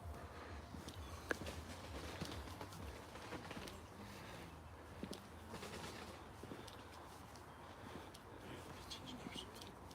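Pigeons coo softly in the background outdoors, faint low murmuring calls over a quiet ambient hum, with a brief sharp sound near the start.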